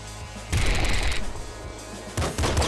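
Rapid bursts of gunfire from the splinter gun in the video game Nuclear Throne, a dense crackling volley lasting most of a second followed by a second short burst, loud and close with no talk.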